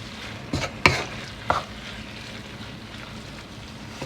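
Beef empanada filling being stirred with shredded cheese until it melts, a few distinct scraping stirs and soft clicks against the pan over a quiet low hiss.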